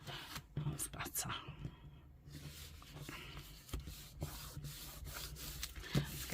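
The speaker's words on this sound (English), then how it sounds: "Let's give that a rub to get rid of that glue." Paper being rubbed to lift glue off a paper file folder, a close, dry scuffing that comes in irregular strokes, with soft whispered talk over it.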